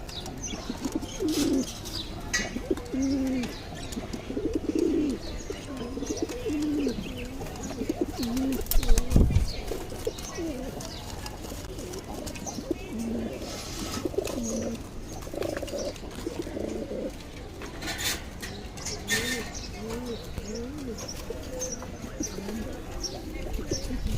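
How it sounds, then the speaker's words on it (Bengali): Pigeons in a breeding box coo steadily and repeatedly at close range, their low rolling calls overlapping with occasional chirps, faint wing flaps and a brief thump near the middle. "যে কয়টা কবুতর আসলে থরের ঘরে দিয়েছি ডিম পাড়ার জন্য"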